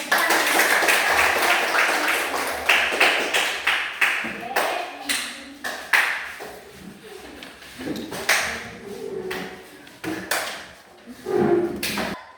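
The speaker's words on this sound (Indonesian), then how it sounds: "Mari kita berikan aplaus bagi mereka." A classroom group applauds, with uneven, scattered claps and taps rising and falling in bursts for several seconds. A few voices sound faintly underneath.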